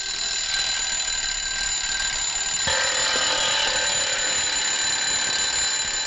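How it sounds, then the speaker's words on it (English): An old mechanical alarm clock in a 1946 film rings continuously, a loud, bright metallic jangle held steady for several seconds with a small shift midway. "That was Miss Sister Bridgie's last wish, to be buried with her alarm clock."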